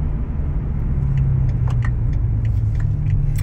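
A BMW M6 with a V10 engine is driven through traffic, with a loud, steady low rumble from inside the cabin and faint rattles and clicks over it.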